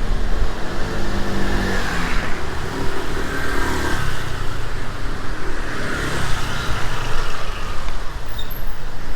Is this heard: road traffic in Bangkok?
yes